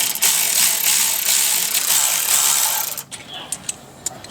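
A ratchet tightens the sliding pins on the front brake caliper of a BMW E36, giving a steady run of close, fairly loud clicking strokes that stops abruptly, leaving a few scattered ticks afterwards.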